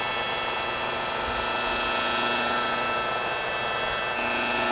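Steady whirring drone of a polishing machine buffing a yacht's gelcoat during ceramic coating, held at light pressure with slow even passes; loud and continuous, close up, with no talk.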